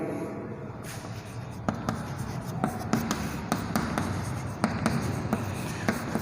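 Chalk or marker strokes on a board during a physics lecture on magnetism, sounding as a run of short taps and scrapes at an irregular rhythm, close and moderately loud over a steady room hum.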